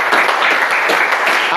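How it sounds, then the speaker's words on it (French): A church congregation breaks into loud, dense applause during worship, a short continuous burst of many hands clapping together, close and full. "Il mérite nos acclamations. Acclamons très fort."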